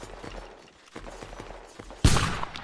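Rifle fire in a multiplayer video game shootout: faint scattered shots at first, then a sudden loud, sharp blast near the end, with no talking.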